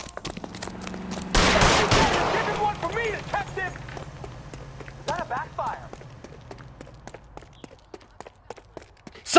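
Gunfire in the video game L.A. Noire: a loud broadband blast followed by a run of scattered sharp cracks and clatter, with voices speaking over parts of it.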